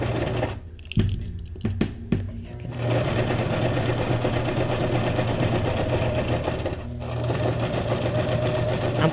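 Sewing machine stitching paper for a junk journal mini folder, a close, steady motor hum running for most of the clip after a few seconds of handling clicks and brief pauses.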